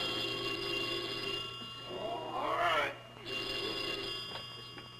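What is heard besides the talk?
telephone bell ringing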